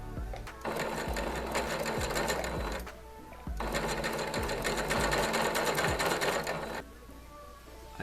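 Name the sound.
sewing machine stitching a gown seam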